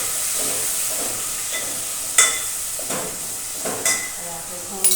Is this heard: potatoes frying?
yes